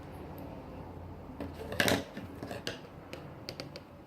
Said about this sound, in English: I'm going to clip these ends here and melt it down.